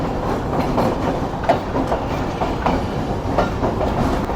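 On a foggy winter route, a train nears Sukkur railway station with a loud, continuous rumble and repeated clickety-clack beats as the wheels cross rail joints.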